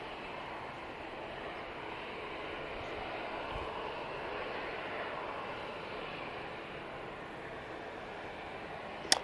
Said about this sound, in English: it is the TUI 737-800 coming in from Zakynthos